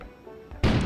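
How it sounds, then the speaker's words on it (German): A sudden, loud explosion goes off outdoors in the video game KONA, breaking in abruptly after near-silence and rumbling on as a dense, sustained roar. "An explosion suddenly occurred outside."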